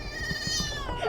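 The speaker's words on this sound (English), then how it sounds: "that's the cat who's trying to curl herself into a ball." A short, whiny cat meow while an old cat is being put down, close and loud over low handling thumps and rustle.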